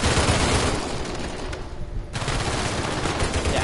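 Dense, rapid gunfire in the Uncharted 4 video game, with loud sustained bursts that drop out briefly in the middle and then resume at full intensity.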